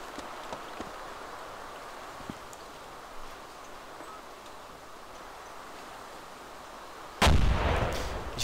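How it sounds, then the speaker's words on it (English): A satchel charge detonates in the video game ArmA 2 near a hangar: after a long stretch of quiet outdoor ambience with scattered faint clicks, a single sudden, loud explosion bursts in and rumbles on. "the satchel detonates without outer impulses, purely on its own"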